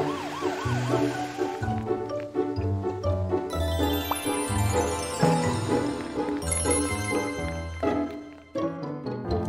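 A cartoonish ambulance siren wails over bouncy music, its rising and falling tone repeating steadily throughout, loud and close.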